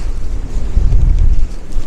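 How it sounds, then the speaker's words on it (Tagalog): Strong winter wind in a snowy South Dakota town roars and buffets the microphone in a steady, heavy rumble with gusts swelling louder midway. "Lakas ng hangin dito."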